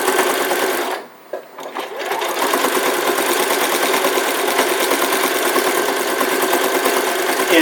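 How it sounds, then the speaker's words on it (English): A sewing machine stitching a decorative stitch around an elf hat, a loud, steady rapid mechanical whir that stops briefly near the start and then runs on continuously. "And this is a decorative stitch, so it's going to take a little bit more time to go around the hat than doing a straight stitch."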